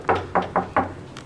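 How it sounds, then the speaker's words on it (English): Four sharp knocks on a door inside a clean apartment building, evenly spaced with a brief pause before the last two, close and fairly loud over a quiet room hum. "Knock. You want me to knock? Knock."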